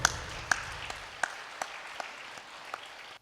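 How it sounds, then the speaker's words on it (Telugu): A few scattered, faint hand claps from a small audience at a pyramid masters' gathering honoring the brand ambassador masters, with sharp isolated claps spaced across a quiet room rather than full applause. "ఒకసారి ఆ మాస్టర్లందరికీ గట్టిగా చప్పట్లు కొడదాం."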